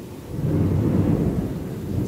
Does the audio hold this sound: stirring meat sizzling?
no